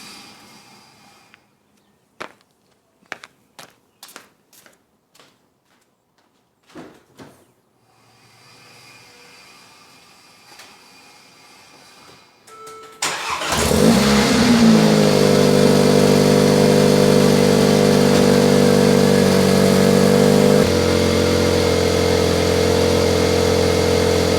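Stock-exhaust Mercedes GLA45 on a cold start: faint clicks and a soft hum lead into a sudden loud crank and catch, then a steady, strong high idle that drops slightly in pitch near the end.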